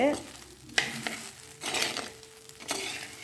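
Sago and sweet potato kichadi stirred in a pan, with a few scraping strokes of the spoon and faint sizzling between them, close and moderately quiet.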